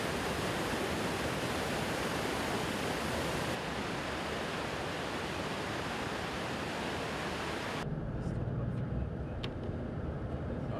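Rushing water from waterfalls and rapids along a gorge in western Georgia, a loud steady broadband roar that holds throughout, with a slight change in tone near the end.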